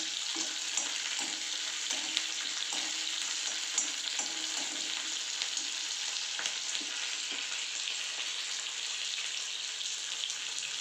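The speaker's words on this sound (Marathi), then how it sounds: "मिरचीला आपल्याला व्यवस्थित फ्राय करून घ्यायचं आहे मऊ झाली पाहिजे ती" Green chillies fry in a pan with a continuous, bright sizzle and scattered small crackles and pops. The sizzle is close and steady throughout, with no voices.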